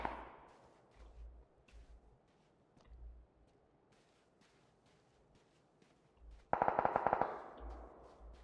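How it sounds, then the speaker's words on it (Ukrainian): Quiet footsteps and shuffling give way to a loud, rapid burst of automatic gunfire in the video game PUBG lasting under a second, then scattered softer thuds. "Та там снайпер тільки що стріляв жорстко."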